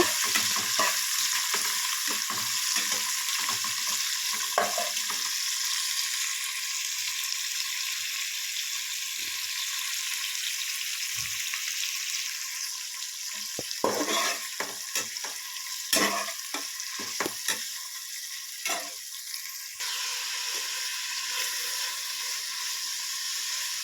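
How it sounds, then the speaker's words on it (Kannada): Onions and green chillies sizzling steadily in hot oil in a pan, with a constant frying hiss and intermittent scraping stirs, close and alone without talk. "ಹಸಿಮೆಣ್ಸಿನ್ಕಾಯಿ ಮತ್ತು ಈರುಳ್ಳಿನ ಹಾಕ್ಕೊಂಡು ಚೆನ್ನಾಗಿ ಫ್ರೈ ಮಾಡ್ಕೋಬೇಕು"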